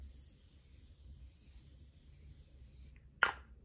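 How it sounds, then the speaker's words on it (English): A single short hiss of setting spray misted onto a face, close and brief, near the end after quiet background noise. "And now I'm gonna spray my entire face."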